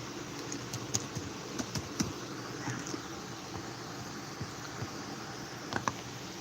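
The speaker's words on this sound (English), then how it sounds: "right now I'm just typing I'm typing my reply to Aubrey Scott." Computer keyboard typing, a scatter of light, irregular key clicks close by over a steady hum of background noise.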